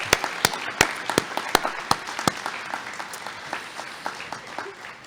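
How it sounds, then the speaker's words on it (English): Audience applauding an instructor at a community college commencement ceremony: a few sharp, loud individual claps stand out over softer crowd clapping, which tapers off steadily. "Let's give her a round of applause."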